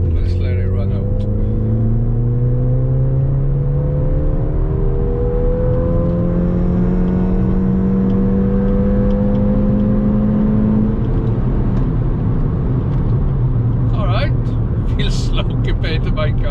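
A car with a failed EVAP system accelerating hard in third gear, its engine note climbing steadily through the rev range in long rising sweeps, loud and close from inside the cabin, with wind and road roar underneath.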